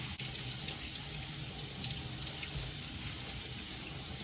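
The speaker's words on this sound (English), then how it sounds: "we actually need to wash these potatoes." Steady running tap water pours into a sink as potatoes are washed, a continuous loud splashing rush throughout with no speech.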